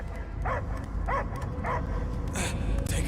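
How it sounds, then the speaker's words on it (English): Dog barking in the video game Marvel's Guardians of the Galaxy, three evenly spaced barks followed by a couple of yelps over a low rumbling game backdrop. "I hear only barking."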